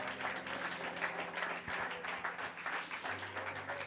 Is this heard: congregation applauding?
yes